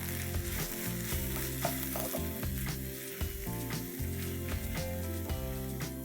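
A paneer filling with spring onions stirred in a hot pan, with steady sizzling and repeated spatula scrapes over a low humming background.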